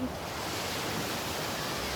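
Ocean surf at Magpupungko Beach on Siargao at high tide gives a steady, diffuse wash of broadband noise, fairly faint and continuous, with no distinct breaking crashes or talk.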